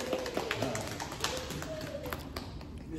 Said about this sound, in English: This hand clap for everybody